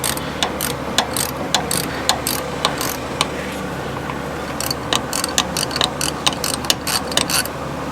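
A ratchet clicks steadily in quick, close bursts while bolts are loosened on a 2000 Ford F350 Powerstroke pickup, over a constant low background hum.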